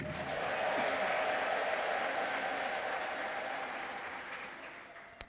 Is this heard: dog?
no